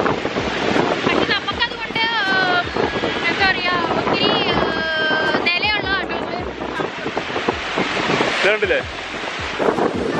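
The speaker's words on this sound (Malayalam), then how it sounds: "ഇപ്പൊ തിരമാല കൂടി വരുന്നുണ്ട്." Ocean waves roll in under strong wind that buffets the microphone in a loud, constant roar on a boat ride in Ontario, while people talk and call out over the noise.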